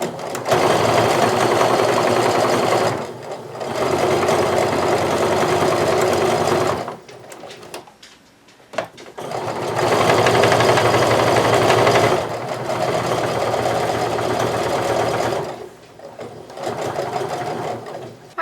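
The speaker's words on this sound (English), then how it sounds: "just sew until you're about 1 inch or so away from the edge using a basting stitch" A sewing machine runs a long basting stitch along a knit sweater pillow cover. Its loud, close motor drones in long runs with a few brief pauses between them, and there is no talk over it.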